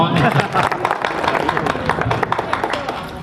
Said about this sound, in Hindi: कविता समाप्त की, ताली बजाइए।